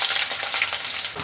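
Onion pieces deep frying with mustard seeds in plenty of hot oil, a dense, steady sizzle and crackle that fills the short moment alone, with no voices.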